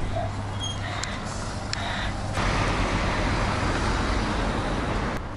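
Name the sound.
street traffic at a bus stop for buses to London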